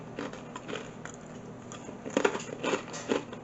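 Crunchy bites into freshly made Guyanese mithai, a fried sweet snack, with several close crisp crackles, the loudest near the end, against quiet background and no talk.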